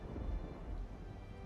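Thunderstorm in the Pankapu video game, a short burst of deep rumbling thunder with rain hiss, loud and close, with no voices.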